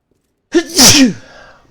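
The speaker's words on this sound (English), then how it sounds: "That's one of those hurt sneezes." A single sharp human sneeze bursts out of silence, loud and close, with a short breathy tail afterwards.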